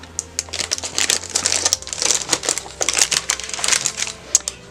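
Cellophane bags crinkle and rustle up close during the packaging of Christmas presents without tape. Bursts of sharp, crackly handling come loud and irregular, with no voices over them.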